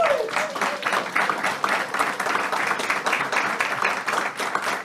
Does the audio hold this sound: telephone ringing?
no